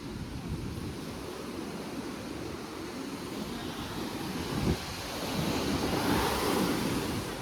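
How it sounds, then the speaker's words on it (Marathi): Rough monsoon sea surf on the Goa coast in June roars continuously, a dense crashing wash swelling louder toward the end, with wind buffeting the microphone. "समुद्र खवळला आहे म्हणजे भाई पाणी बघा कुठपर्यंत आलं आहे"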